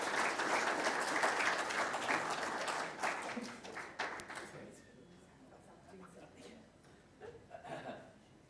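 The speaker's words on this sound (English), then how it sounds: "So please give a warm round of applause for Ava," Conference audience in County Limerick applauding as the MS Ireland CEO is welcomed, a full burst of clapping with light chuckles that fades to scattered claps and murmurs.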